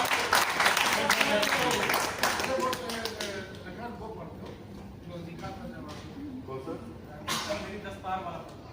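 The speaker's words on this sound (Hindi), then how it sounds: "तालियां बजाइए" Audience applause at a Hindi poetry recitation event: a burst of dense clapping for about three seconds that thins into scattered claps, with someone talking over the fading tail and a brief renewed flutter of claps near the end.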